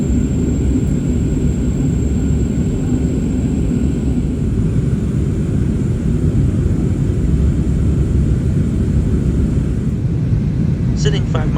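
Steady, loud broadband roar of a jet airliner's engines heard from a rear cabin seat far back near the tail of an American Airlines flight, continuous and unchanging with a faint high whine above it.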